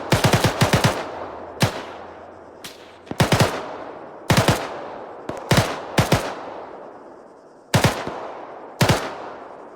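Automatic gunfire in the Arma 3 military game, fired down a hill: sharp bursts and single loud shots in an irregular rhythm, each crack trailing off in a decaying echo across the ten seconds, no talk.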